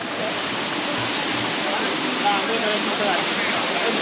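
Steady, dense rush of falling water at Vibhuti Waterfall near Gokarna, Karnataka, fills the whole stretch, a continuous broadband roar with no breaks, close and fairly loud.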